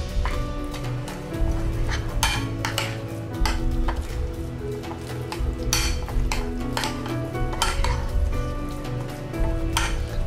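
A spoon stirs curd masala with green chillies and coriander in a bowl, giving repeated clinks and scrapes against the dish over a busy kitchen background, at a moderate level without talk.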